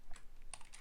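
Quick keystrokes on a computer keyboard during a coding session, a few separate clicks and taps in a short burst, close and alone without talk.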